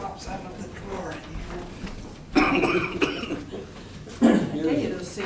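Coughing from a person near the microphone, with two strong bursts standing out over quiet room noise and some faint talk.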